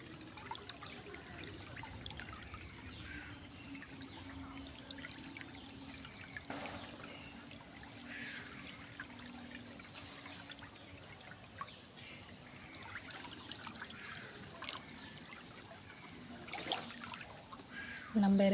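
Rainwater flows along a residential street in a continuous trickling rush, with faint background sounds and a crow calling now and then.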